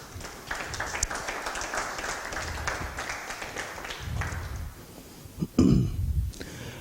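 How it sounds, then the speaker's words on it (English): Applause from a small seminar audience, scattered hand clapping that rises, holds for several seconds and then trails off into a few final louder claps and a thump. "Give her a round of applause."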